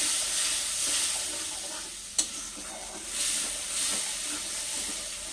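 Water splashed into a hot pan of frying garlic and onion paste for egg curry, giving a loud, steady hiss and sizzle of steam with a single sharp click partway through.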